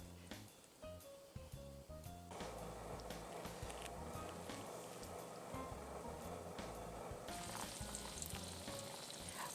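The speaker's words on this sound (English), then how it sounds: "I've melted about a tablespoon of butter in my fry pan and added the sandwiches" Croque monsieur sandwiches fry in melted butter in a pan, giving a steady crackling sizzle scattered with small pops and taps. The sizzle grows denser and brighter partway through, and nobody speaks.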